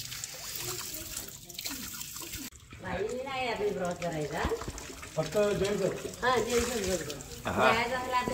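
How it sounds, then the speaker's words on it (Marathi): Drinking water from the Keshav Tirth spring flows and trickles steadily, heard beneath almost continuous nearby talking. "तिकडनं पाणी येतं डायरेक्ट. तो पिण्याचे पाणी येते. केशव तीर्थ."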